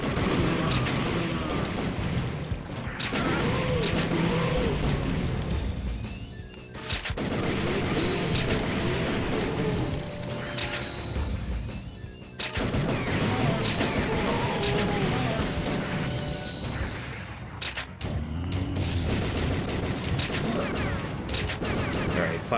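Rapid light-gun gunfire blasts at zombies in the House of the Dead III arcade game, dense continuous volleys mixed with game effects and crashes, loud and sustained for over twenty seconds with brief lulls.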